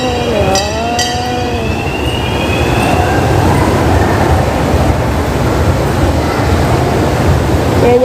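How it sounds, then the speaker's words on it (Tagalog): A subway or metro train pulls into a station at a mall, a loud continuous rumble with squealing wheel and brake tones rising and falling over the first seconds, then steady rolling noise throughout. "Dumating na yung train."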